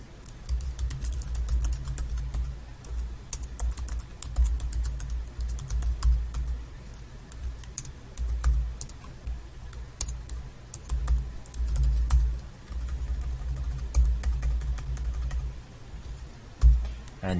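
Typing a username on a computer keyboard, with rapid, irregular key clicks in bursts, close and fairly quiet, with no one talking.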